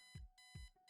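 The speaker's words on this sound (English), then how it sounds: "Smash the alarm clock." An alarm clock in the Kathy Rain video game rings with two quick electronic bursts, a sharp repeating beep pattern, clear and close.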